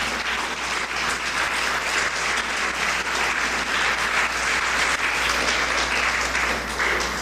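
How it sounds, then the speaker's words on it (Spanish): A church congregation applauds steadily throughout, a dense, loud wash of clapping with no break, with a low hum underneath. "Denle un aplauso al Señor."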